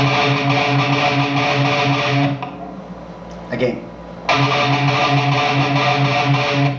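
Distorted electric guitar chugs an inverted gallop riff in a heavy metal style, loud and rhythmic, with a brief drop in the middle before the pattern returns at full volume.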